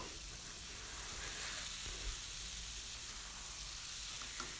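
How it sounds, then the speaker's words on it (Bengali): Eggs and potatoes fry and get stirred into a well-cooked spice masala in a pan, giving a steady, close sizzle with faint stirring scrapes throughout and no talking. "মশলাটা অনেকখানি কষিয়ে এসেছে এখন ডিমগুলি দিয়ে দেব ডিম আর আলু দিয়ে দেব দিয়ে একটু নাড়াচাড়া করে"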